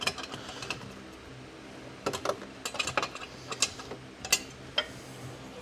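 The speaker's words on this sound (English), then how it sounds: "Offset wrench." An offset wrench turns on a Mercedes 300E engine mount, giving faint, irregular ratcheting clicks and metallic ticks in short bursts against a quiet garage background.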